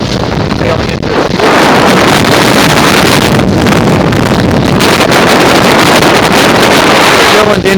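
Strong wind batters the microphone on a sailboat heading upwind in roughly 30-knot winds, making a constant loud roar mixed with water rush and gusty buffeting throughout.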